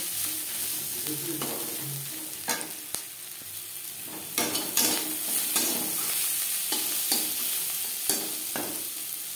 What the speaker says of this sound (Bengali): মশলার সাথে পেঁয়াজ বেশ ভালো করে ভাজা হয়ে গেছে